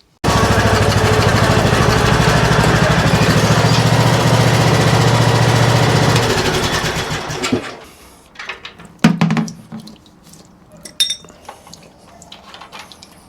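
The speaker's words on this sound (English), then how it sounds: "We'll get the mower pulled back in here" Troy-Bilt Pony riding lawn mower engine running at a steady, loud drone for about seven seconds, then cutting off and leaving scattered clinks and handling noises in a quiet workshop.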